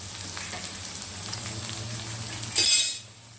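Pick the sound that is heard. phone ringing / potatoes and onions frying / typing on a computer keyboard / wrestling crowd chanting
potatoes and onions frying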